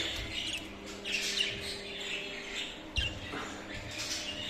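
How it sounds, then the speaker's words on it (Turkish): Pet bird squawks and chirps in short bursts while being caught indoors for a cage change, fairly close with rustling between calls. "benim kuş yakalamam birazcık uzun sürüyor"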